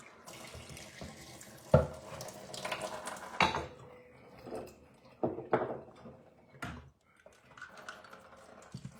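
Tap water runs into a sink to soak fresh cilantro in a home kitchen, splashing unevenly with a few louder clatters, fairly close and moderately loud.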